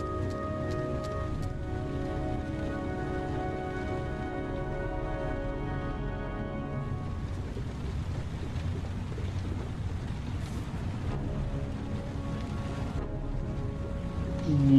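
Rain falling in a steady, continuous patter that holds even and moderately loud all the way through, with a muffled low hum beneath.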